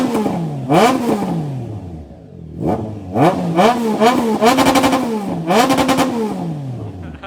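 A Triumph Trident 660 motorcycle revs through its exhaust in three sharp bursts, each rising, holding and dropping back toward idle, loud and close with a rough mechanical edge.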